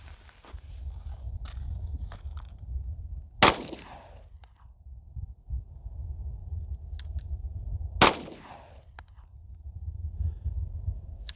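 Two sharp pistol shots from an S&W Shield X firing Speer 124 grain hollow points, spaced several seconds apart and loud at close range over low outdoor rumble and faint shuffling.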